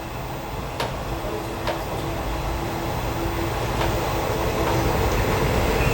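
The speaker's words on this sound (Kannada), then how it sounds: "ನಮ್ಮ ಟ್ರೈನ್ ಡಿಪಾರ್ಟ್ ಆಗ್ತಾ ಇದೆ" Steady low rumble of an SSS Hubballi–Amaravati Express train departing platform three at Hubballi station, with faint periodic clicks, building gradually in loudness as it moves off.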